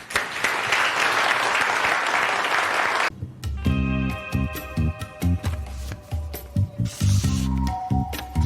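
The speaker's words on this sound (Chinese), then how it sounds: "大家掌声鼓励，欢迎安琪同学。" Classroom of students applauding to welcome a new classmate, a loud dense burst of clapping for about three seconds that cuts off abruptly, followed by quieter thuds and a musical score.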